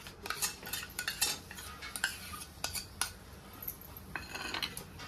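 Mango pulp being stirred into a milk-and-semolina mixture for mango barfi, with repeated close scraping and clinking of a spoon against a metal pan in an uneven rhythm, no talking.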